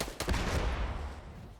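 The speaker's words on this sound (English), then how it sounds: "I'm getting shot at by another one?" A burst of gunfire in the dungeon game Dark and Darker, rapid cracking shots clustered in the first half-second, then a fading rumbling tail, close and fairly loud with no talking.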